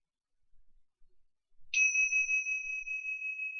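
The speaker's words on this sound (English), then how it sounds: "I'm going to ring a bell. So just listen and wait for that." A single bell or chime is struck to end a short quiet period in a gentle chair yoga session, giving one clear, bright ring that sustains and slowly decays, alone in a silent room.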